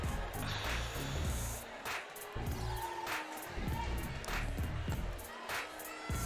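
A crowd at an outdoor basketball three-point and slam dunk contest cheers as a steady, roughly even roar, with some voices mixed in.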